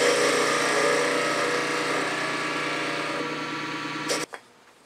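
A midi wood lathe turns a small wooden elf while a slight chamfer is cut. Its motor gives a steady, close whine with rough cutting texture for about four seconds, then stops abruptly and winds down to a quiet hum.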